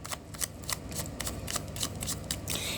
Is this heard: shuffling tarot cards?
yes